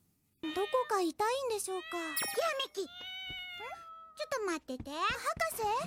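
Cat meowing in the anime Nichijou, a run of loud, close, high wavering meows and drawn-out cries with brief pauses and a faint jingle, the calls nearly continuous throughout.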